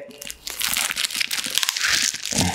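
Plastic wrapping crinkles and crunches nearly nonstop as a GoPro Hero 9 camera box is opened, a dense, close, fairly loud rustling with no talk over it.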